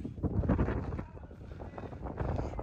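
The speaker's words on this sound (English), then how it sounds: "It got real windy all of a sudden" Gusty outdoor wind buffets the microphone in low rumbling surges, rising and falling across the moment, loud and close, with no voices clearly heard.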